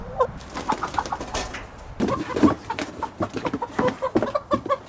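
A 20-week-old vaccinated laying hen in a new henhouse, giving repeated soft clucks and cooing calls in an irregular rhythm, close and clear.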